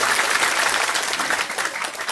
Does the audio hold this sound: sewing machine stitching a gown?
no